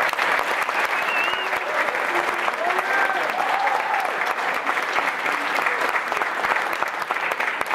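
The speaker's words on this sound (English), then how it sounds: "So I think he deserves a round of applause." Steady round of applause from a team gathering honoring one of its members, dense clapping sustained throughout with a few faint voices calling out beneath it.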